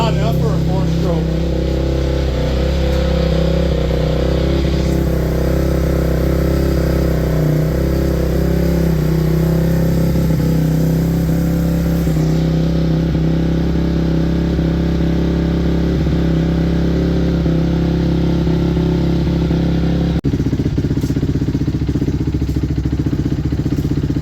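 A 2006 Honda CRF250X four-stroke dirt bike engine runs loud and steady throughout after a cold start, a strong low drone with a slight shift in tone near the end, while people talk over it.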